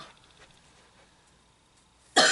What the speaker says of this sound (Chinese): 我咳嗽